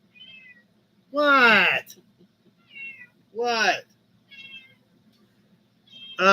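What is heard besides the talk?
cat meowing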